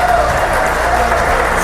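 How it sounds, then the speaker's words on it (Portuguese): Church congregation clapping loudly and steadily for Jesus during a prophetic school worship service, a dense continuous wash of hands with a voice speaking over it throughout. "Aplauda bem forte Jesus"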